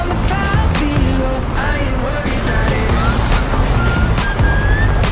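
A JA-35 Draken jet in War Thunder roars loudly and continuously while attempting a cobra maneuver, with rising and falling whistling engine tones sweeping over the dense rumble.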